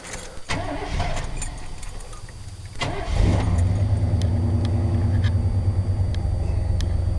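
A stock 1990 Chevy K-5 Blazer with a freshly rebuilt engine cranks briefly and catches, then settles into a loud, steady, rumbling idle close by, with no talking.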